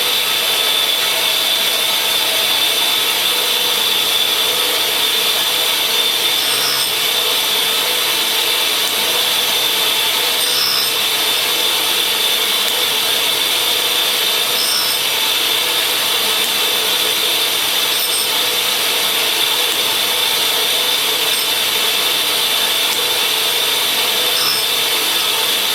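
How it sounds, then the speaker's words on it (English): A Parkson grinder works a hardened cutter in a workshop with a continuous, loud, even abrasive hiss and whine. Faint periodic ticks repeat through the pass, with no speech. "we'll do a few passes from this side and then I'll take you around to the other face of the grinder"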